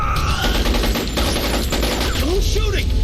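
Sustained automatic gunfire in a Metal Gear Solid: Portable Ops cutscene, a dense continuous rattle of rapid shots with rumble beneath, loud and close throughout, with voices shouting over it.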